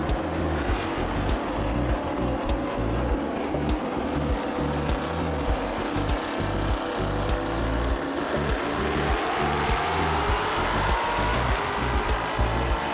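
Pack of Ligier JS422 Formula 4 race cars rolling at a circuit start, a dense continuous engine drone with rising and falling revs, steady and fairly close, no voices.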